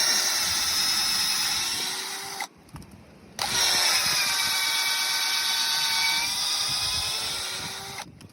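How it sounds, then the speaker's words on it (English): A power drill whines steadily in two long bursts separated by a short pause, close and loud, drilling a tap hole into a maple tree, with faint scraping noise beneath. "I'm going to drill a hole"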